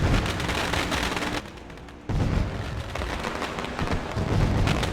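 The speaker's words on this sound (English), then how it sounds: "Well, the fireworks are going off, folks." Fireworks go off at a race track after a race finish, a dense continuous barrage of crackling bangs and booms that briefly thins then surges again, loud and unbroken throughout.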